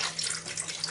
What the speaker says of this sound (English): I'm just going to pour some of that into here.